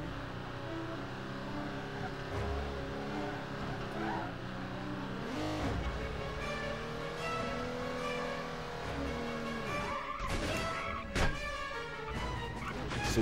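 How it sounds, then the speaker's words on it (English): City traffic in the PS2 game 007 From Russia With Love, Istanbul level: a steady engine hum with cars whooshing past and a brief tire skid, a voice talking over it at times. "Oh, the traffic in this city."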